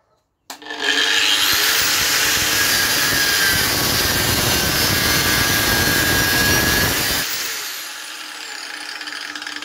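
An angle grinder switched to speed setting 5 spins up with no load, holding a loud, steady high whine for several seconds before winding down into a fading hum.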